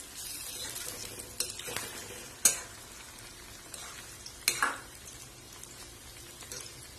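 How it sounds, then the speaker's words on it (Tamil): Green chilli chicken 65 pieces fry in hot oil with a steady, close sizzle, broken by two sharp metal utensil clinks partway through. "ரெண்டு சைடும் நல்லா கிறிஸ்பி அண்ட் கோல்டனாக வர வரைக்கும் நம்ம இதை ஃப்ரை பண்ணி எடுத்துகிட்டு போகிறோம்"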